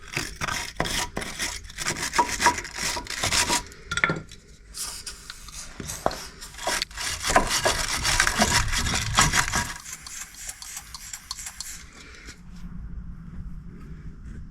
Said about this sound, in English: So I'm going to give it a wire brush to get it as clean as possible